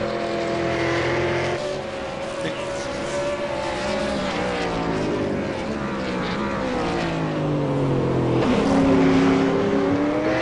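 Race car engine from a V8 Supercar on an out lap at Twin Ring Motegi in a racing video game, a continuous close engine drone with shifting, rising and falling pitch held steadily throughout.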